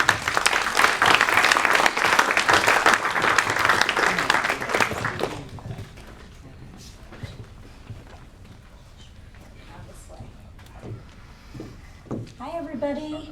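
An audience at a startup meetup claps loudly and densely for about five seconds, then the applause drops away to quiet room noise, shuffling and faint voices.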